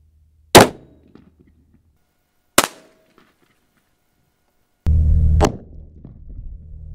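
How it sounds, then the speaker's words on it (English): Three sharp 5.56 ball-round gunshots striking level 4 body armor, each a loud crack with a short ringing decay, spaced about two seconds apart, the last followed by lingering outdoor noise. "First round against this body armor is just going to be your standard ball round."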